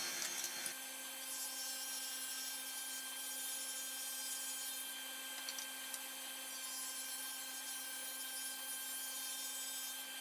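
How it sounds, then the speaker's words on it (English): A power saw rips 4-inch wood strips for bookcase top and bottom braces, a steady, close, loud whine with tonal harmonics running continuously with only small level changes and no talking. "I also need to rip down 4-inch pieces for the top and bottom brace on both bookcases."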